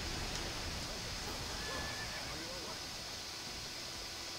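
A horse in the Dynasty Warriors 8 video game whinnies amid a dense wash of battlefield noise, the call fairly brief and partly buried in the steady roar.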